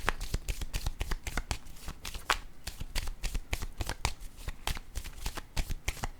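Tarot cards being shuffled by hand, a steady run of soft riffling flicks and snaps, close and quiet, with no talk over it.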